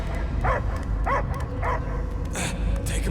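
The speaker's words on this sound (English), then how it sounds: "I hear only barking" A dog in the Guardians of the Galaxy video game gives a few short, muffled barks and yips over a low rumbling game soundscape, with voices talking around them.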